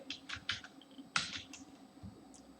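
Bursts of computer keyboard typing while C# code is entered, quick irregular clusters of clicks close up, with short pauses between bursts and no talking.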